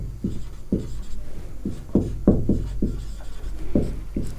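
Pen scratches on paper while math notes are written, short rhythmic strokes and taps at close range, quiet and steady, without speech.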